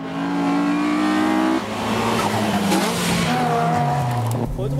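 Car engine pulling hard in third gear while climbing a mountain pass in a touge battle, a loud sustained rising drone with a shift near the midpoint and tyre noise, overlapping other engine sound throughout.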